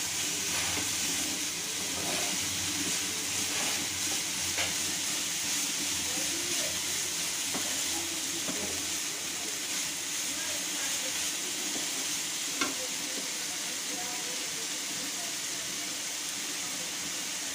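Broad beans (avarakkai) sautéing in a pan for a poriyal, a continuous hiss of frying held steady throughout with a few faint clicks and scrapes; no voices.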